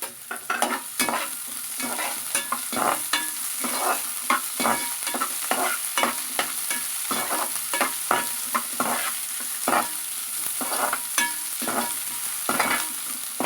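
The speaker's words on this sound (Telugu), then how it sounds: "ఆయిల్ కాగిన తర్వాత కొంచెం ఆనియన్ వేసుకుని ఫ్రై చేసుకోవాలి." Onion frying in a spoonful of hot oil in a pan while being stirred, steady sizzling under repeated sharp scrapes of the spoon against the pan, up close with no talk.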